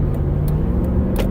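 Steady road traffic rumbles past close by, a continuous low vehicle drone with a few brief brighter swishes, heard alone without talk.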